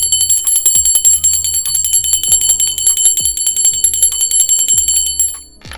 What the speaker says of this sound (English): Let me ring my bell for my spirit guides, guardian angels, and ancestors.